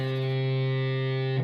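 One muffled upstroke on a distorted electric guitar with the lower four strings damped, from a song's riff; the chord sustains evenly for over a second before being choked short.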